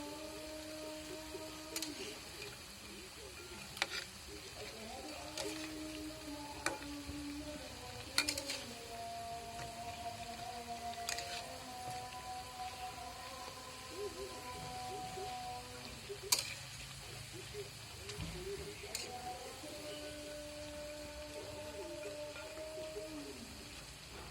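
Cabbage fritters fry in oil in a pan over low-medium gas, giving a soft, steady sizzle with occasional clicks and taps, quiet and continuous in a kitchen.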